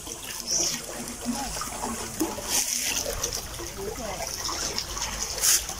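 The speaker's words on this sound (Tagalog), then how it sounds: "Kaya medyo ang dagas-das ng tubig ay mabagal." Slow water moves where the tides meet, a soft continuous trickle and gentle splashing at moderate distance with faint low background noise.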